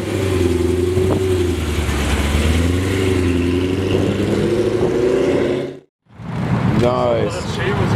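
A Lamborghini Murcielago rumbles loud and close in a parking lot with a deep, steady engine drone. The sound cuts out briefly, then returns with rising revs.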